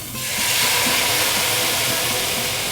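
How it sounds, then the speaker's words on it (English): Four tablespoons of white wine hitting a hot pan of garlic set off a loud, steady hiss that swells quickly and holds as it deglazes, with no talk. "4 tablespoons of white wine in there. Deglaze the pan with that."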